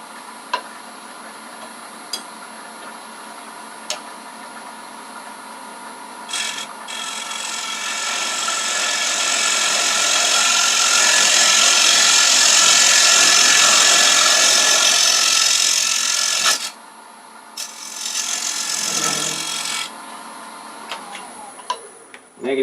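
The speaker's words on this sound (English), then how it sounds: "Don't have a real good flat one, but I'm going to use this box scraper." A box scraper shaves a wooden paten spinning on a lathe, making a steady rasping scrape that swells louder through the middle, cuts off briefly and then resumes, with light ticks and knocks at the start and end.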